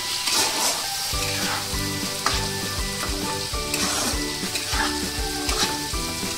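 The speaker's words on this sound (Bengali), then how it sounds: "আর পাশে আলুটা ভেজে নিচ্ছি" Potatoes and half-boiled banana flower frying in a pan give a loud, continuous close-up sizzle with repeated stirring scrapes throughout, no voices.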